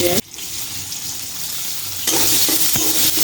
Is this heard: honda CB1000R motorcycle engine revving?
no